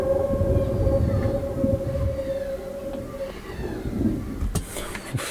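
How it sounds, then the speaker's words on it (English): A train sound effect rumbles low with a long sustained horn-like tone for about three seconds, followed by scattered clanks and a sharp burst near the end. "A lot of train sound effects."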